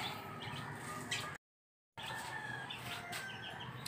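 Chickens cluck and fuss around an old coop where a hen has hatched eggs, a steady close farmyard din briefly cut by a moment of silence.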